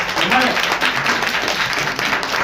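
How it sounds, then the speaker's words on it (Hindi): Loud clapping from an audience at an anti-tobacco speech, a continuous wash of applause with a voice faintly mixed in. "जोरदार ताली अपने लिए बजाइए।"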